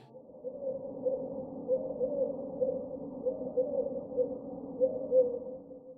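European collared dove cooing, soft low hooting phrases repeated in a steady rhythm, fairly close and alone without other sounds.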